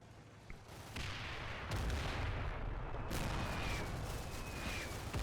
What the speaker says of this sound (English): We're just going to wait for this mortar barrage to subside before we make any more movements.